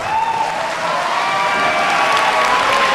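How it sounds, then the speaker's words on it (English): A jam-packed CZW wrestling arena crowd applauds and cheers in a loud, steady roar that fills the whole stretch, dense and unbroken from start to finish. "Listen to this crowd, John. And the CZW arena is jam-packed."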